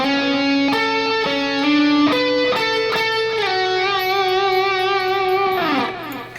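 Electric guitar solo, a series of picked and bent notes in steady rhythm that settle into a long sustained note with wide vibrato, then drop off with a short slide, played alone and loud.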